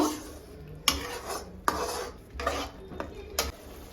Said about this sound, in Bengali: এবারে এটা আমি মিক্স করে নেব